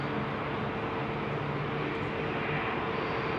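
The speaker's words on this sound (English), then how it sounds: "They are 4 Dreamliner engines on this beautiful aeroplane." A Cathay Cargo Boeing 747-8F with four General Electric jet engines departs London Heathrow, giving a steady, broad roar that holds at even strength throughout, with no voices.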